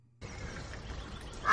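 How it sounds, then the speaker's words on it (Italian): Cartoon ducks quack in a dense, continuous burst of overlapping calls that starts after a short quiet lead-in and grows louder toward the end, with no talking. "Adesso, papere."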